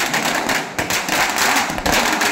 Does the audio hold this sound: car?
no